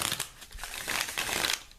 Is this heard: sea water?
no